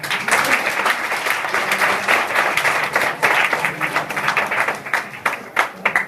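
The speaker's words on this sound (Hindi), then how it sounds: "ताली बजा दीजिए।" Students at an Alagu Smarak Inter College event in Azampur, Uttar Pradesh clap in a dense, sustained round of applause that continues for several seconds, with a few separate claps near the end.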